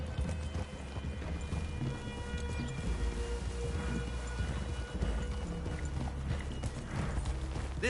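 Horse hooves clop steadily at a walking pace beneath a low rumbling background, with faint musical tones drifting in, in the video game Red Dead Redemption 2.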